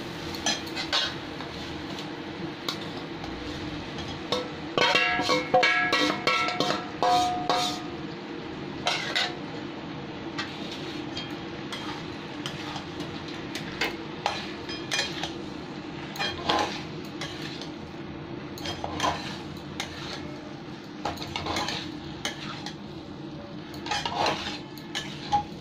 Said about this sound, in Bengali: এবার আমি আলু আর ফুলকপিটা তুলে দিলাম